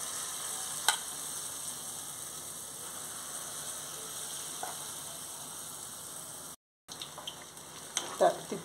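Mango sweet bondas fry in hot oil with a steady, soft sizzle and crackle, broken by a few light clinks of a utensil and a brief gap near the end.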